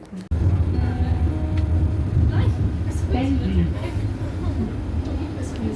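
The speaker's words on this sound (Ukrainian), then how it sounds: "Ось він трамвайчик. Зараз під'їде." A tram rumbles closer through Zurich with low mechanical drone and faint squeals, while people talk nearby over the steady traffic noise.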